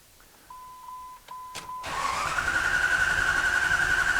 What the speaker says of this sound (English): let's start off with just a cranking